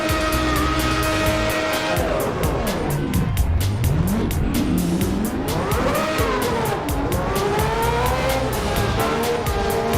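A 1994-season Formula One car in the Assetto Corsa racing game spins out at the Pacific circuit: a loud, close engine wails and sweeps through pitch while the tires squeal and skid across the whole stretch.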